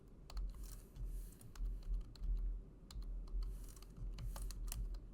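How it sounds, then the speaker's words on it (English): Rapid typing on a computer keyboard during a math lab session, with steady runs of close, crisp key clicks and short pauses between bursts, heard alone without talk. "I keep typing the wrong thing"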